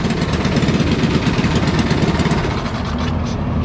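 Loud, steady LO206 kart engine runs close by after starting up, a rough, pulsing four-stroke drone filling the clip with no talk over it.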